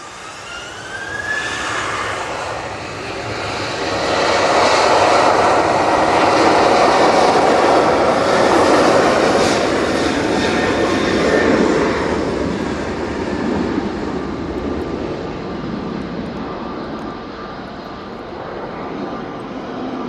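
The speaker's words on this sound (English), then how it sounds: "we have the EasyJet coming in from Liverpool" An easyJet jet on final approach to land at Manchester Airport, a broad roaring engine rush with a whining tone that swells loud overhead and then slowly fades as it passes, with no talk.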